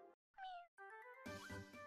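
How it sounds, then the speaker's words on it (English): Short cat-like cry of Mew in the video game Pokémon Insurgence: a few quick, bright meowing calls, close and clear with no talk. "I love Mew sound. It's so cute."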